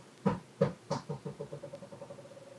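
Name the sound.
dog's ball bouncing across the floor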